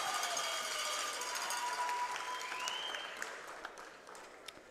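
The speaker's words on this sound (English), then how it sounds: "Getting a round of applause here from, I would say, probably a partisan favor Australia crowd" At a U19 men's lacrosse championship match involving Australia, a crowd applauds in a steady wash of clapping and cheering that slowly fades, heard from a distance.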